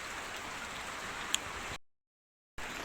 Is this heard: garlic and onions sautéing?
no